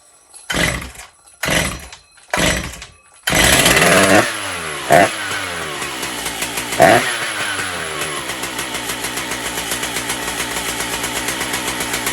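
A Stihl MS 880 chainsaw close by: three rough pull-start bursts, then the engine catches and roars, revs sharply twice and settles into a steady, loud idle.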